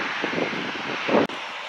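Aircraft engine noise at Manchester Airport, a steady broadband roar heard from a distance, briefly cut off near the end.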